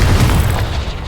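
A Confringo explosive spell bursting in Hogwarts Legacy, a loud, heavy boom with a deep low rumble that fades away over about a second, with no talking over it.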